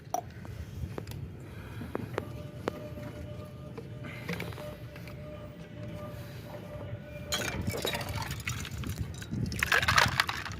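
Chilled cold water is showered over goats after castration, starting as quiet trickles and dribbles, then building into louder splashing and sloshing near the end.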